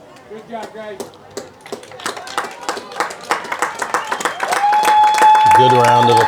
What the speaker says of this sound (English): Good round of applause for the Raiders that were on the field coming off.